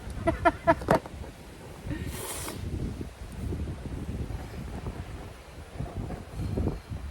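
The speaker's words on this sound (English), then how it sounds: "It's quite windy here actually" Wind buffets the microphone in a steady low rumble, with a few brief clicks at the start and a short hiss midway.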